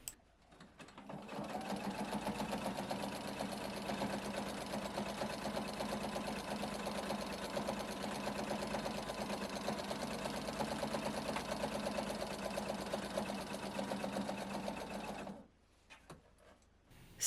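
A sewing machine fitted with a walking foot quilts straight lines, running as a steady, close mechanical whir for about fourteen seconds before stopping, with no talk.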